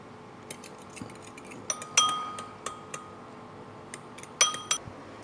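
A utensil whisks eggs with a pinch of salt in a bowl, producing sparse, irregular clinks and taps of metal against the dish, close and fairly quiet, with no voices.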